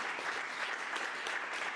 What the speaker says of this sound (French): applaudis quand même le Seigneur